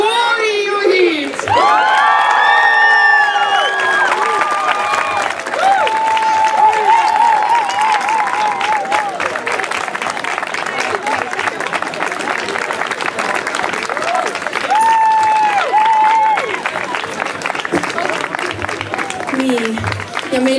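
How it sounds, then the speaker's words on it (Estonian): Song festival audience applauding and cheering for two choir conductors, sustained loud clapping with whoops and shouts throughout, while a voice speaks over the crowd. "Ja ma arvan, et te olete mõlemad üli suurt aplausi väärt."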